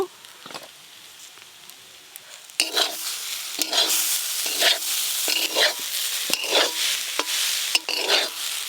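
Poppy seeds frying in a pan with greens, a continuous close sizzle broken by repeated scraping stirs of a spatula, louder after the first couple of seconds.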